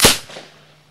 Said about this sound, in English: the team tests a detonator to check that all systems are go